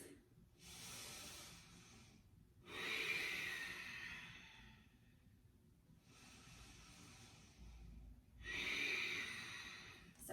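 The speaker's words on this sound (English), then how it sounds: "Breathing here for 2 more long breaths." Slow, deep yoga breaths during a flow sequence, two long soft inhales and exhales with a hissing, airy edge, close and quiet against a still room.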